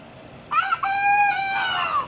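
A farm rooster crows loudly and close by in one long drawn-out call, with a brief clucking start before the crow, alone without talk.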